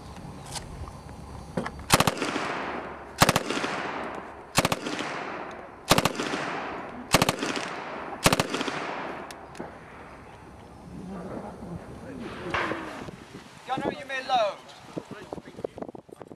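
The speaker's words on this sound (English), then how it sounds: "Single shots in your own time, go on. You may go to burst fire." Historic machine gun at a range demonstration firing loud single shots in a slow irregular series, each blast ringing out with a long decaying echo, followed by quieter rumbling and a voice at the end.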